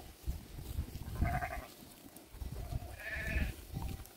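Sheep from a large flock of about a thousand bleat a few times at moderate distance, short wavering calls over quiet outdoor background, faint and sparse.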